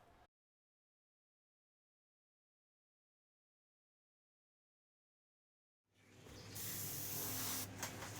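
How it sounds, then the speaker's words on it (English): An airbrush, a CMC Plus Micron with a fine needle, sprays Trident black paint during car-wreck artwork, a long steady hiss that starts abruptly after a stretch of silence and holds near and loud. "now I have some Trident black in my airbrush"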